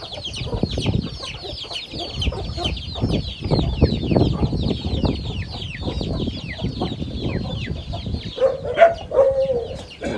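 Backyard chickens on a rural Thai homestead cluck in a busy, continuous chatter, with many birds calling at once close by and a few louder squawks near the end.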